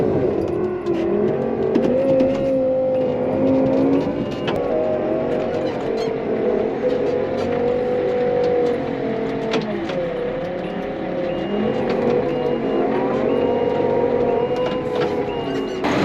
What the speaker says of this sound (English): So the mixer's on, but it's just idling